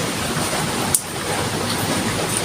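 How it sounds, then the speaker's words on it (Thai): Steady rain falling outdoors, an even dense hiss throughout with one brief tap, moderately loud and without talking. "บางทีบรรยากาศฝนตกเลยพี่น้องนะเสียงอาจจะมีเสียงฝนรบกวนนะเนาะ"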